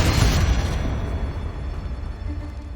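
A Confringo spell explosion in the video game Hogwarts Legacy, a loud deep blast that booms at the start and then rumbles and decays over a few seconds, with no other sounds.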